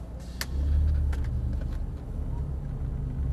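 A drift car engine turns over and catches with a little throttle, a low, steady rumble building up and holding close by, with faint clicks early on.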